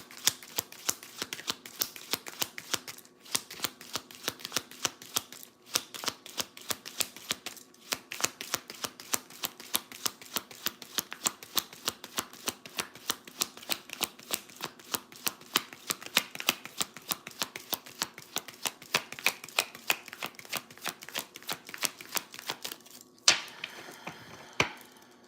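A deck of playing cards is shuffled again and again, making quick riffling bursts and rapid snapping flutters in a steady rhythm close to the microphone, with brief pauses between passes.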